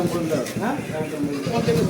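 Goats bleat repeatedly at Bagjola village market, where goats and pigeons are sold, the calls close and loud under steady nearby talk and market bustle.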